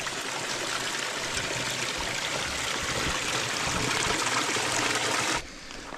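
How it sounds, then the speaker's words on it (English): A natural spring wells up from the ground in remote wilderness, its water flowing in a steady close-up gurgle and rush that fills the clip before abruptly dropping away near the end. "So this is a natural spring that just wells up from the groundwater, and it appears here"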